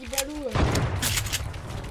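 Sniper rifle gunfire in Fortnite Battle Royale crackles in dense, loud bursts after a brief voice at the start, the game's shots and effects filling the rest of the moment.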